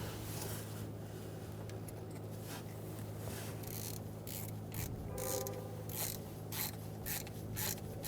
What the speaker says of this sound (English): We're going to use a stud installer to install the stud.